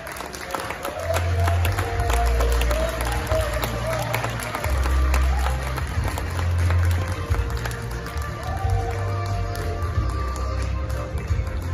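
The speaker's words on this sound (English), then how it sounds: "please help me with another big round of applause" An award ceremony audience applauds and cheers in a sustained, busy crowd roar, with a low musical bed pulsing underneath and a voice occasionally speaking over the hall.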